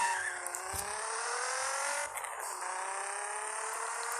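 A Nissan 370Z in the Gear Club racing game revs hard through rising gear pulls, with a brief dip and shift midway, a continuous whining engine tone up close.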